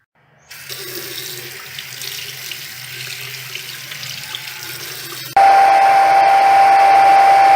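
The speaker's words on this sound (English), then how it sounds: "Now we are going to clean it all with soap and water." Tap water runs into a sink while a BMW fuel cap tether strap is washed with soap and water, a steady close hiss that jumps louder and brighter partway through, with no talking.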